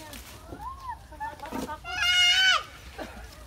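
Goats at a livestock farm bleat several times in wavering, nasal cries, one long loud call near the middle, with people talking nearby and other animal sounds in the background.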